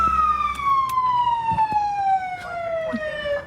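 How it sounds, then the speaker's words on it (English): A police car siren wails loud and near in one long, slowly falling tone, with faint background clatter beneath it. "It's got a siren on."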